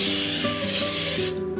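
A cooking spray can hisses steadily against the edge of a cake pan for a pineapple upside-down cake, one continuous close spray that stops abruptly near the end.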